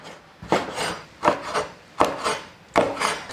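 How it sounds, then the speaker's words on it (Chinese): Cuttlefish is cut into pieces with a knife on a wooden board, giving four evenly spaced, close scraping chops with quiet gaps between them and no talk. "再来给它切成块。"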